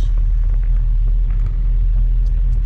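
Heavy road traffic on EDSA in Manila gives a steady low rumble of car engines close by, continuous and unbroken.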